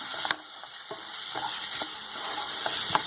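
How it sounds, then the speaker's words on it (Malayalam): Tomatoes simmering in a pan over a medium flame, with a steady soft sizzle and several light scrapes and taps of a spoon stirring them, close and alone. "ഇടയ്ക്കൊന്ന് ഇളക്കി ഇട്ട് കൊടുക്കാം"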